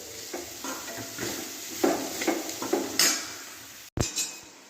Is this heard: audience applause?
no